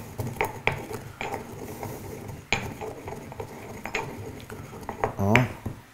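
Black pepper is ground in a mortar while making hummus and a vegetarian pâté: repeated scraping and knocking clicks at an uneven rhythm, close by, with a brief voice near the end.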